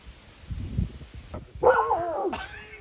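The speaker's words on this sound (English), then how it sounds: "I can't believe he's still barking at it" A dog gives a low woof, then a louder whining bark and a higher yelp, fairly close by and alone over quiet background.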